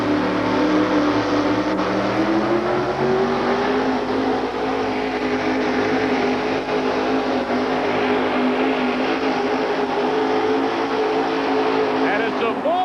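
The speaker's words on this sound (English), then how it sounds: "The truck never faltered 1 inch going down the track" Monster truck engine at a 1987 USHRA event in Minneapolis, pulling a sled down the track in a full pull, roaring loud and steady with a slowly rising pitch from start to finish, while an announcer talks over it.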